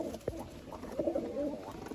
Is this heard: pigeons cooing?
yes